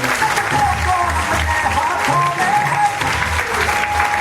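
Loud, sustained applause from an audience at a network-marketing business seminar in India, with some music and voices mixed underneath the clapping throughout.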